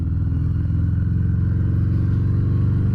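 A Harley-Davidson Softail Breakout motorcycle engine rumbles steadily at close range, a loud, deep, even idle-to-rev drone with a throbbing low pulse and no talk over it.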